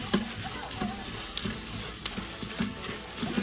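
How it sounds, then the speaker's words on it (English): Four cloves of garlic are stirred in a pot for a smoked sausage and chicken gumbo: a low, steady sizzle broken by regular scraping knocks of the spoon, close by and without talk. "I'm gonna stir that a little bit more, make sure we don't burn it."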